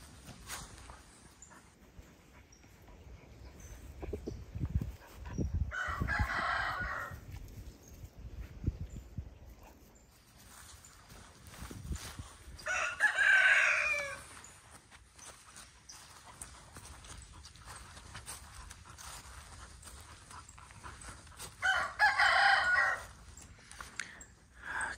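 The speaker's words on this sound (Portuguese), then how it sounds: "Olha o galo ali, ó." Rooster crowing on a small Brazilian farm beside an orchard, three separate bursts spread out at a moderate distance, with footsteps and faint rustling between them and no talk.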